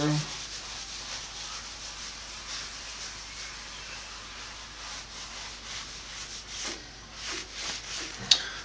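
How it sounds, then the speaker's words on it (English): Cloth wiping Boeshield T-9 and loosened rust off a cast iron table, a steady soft rubbing hiss that runs throughout, with a few sharper scuffs and a brief click near the end. "I will finish wiping this up here. See how much more rust and debris I pull up here."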